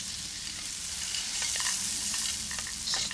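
Arborio rice stirred in a pan for mushroom risotto, an even frying hiss with quick scraping and rattling grain strokes that cluster near the end, close and without speech.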